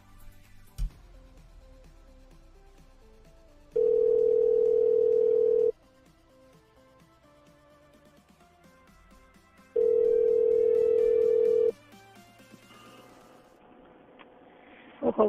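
A telephone ringback tone while placing a call to order, two long steady rings several seconds apart, with quiet background and faint clicks between them; no one talks.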